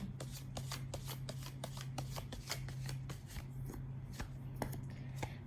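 Tarot cards are shuffled by hand in a quick, rhythmic run of soft riffling slaps, close and quiet over a low steady hum, with no talking.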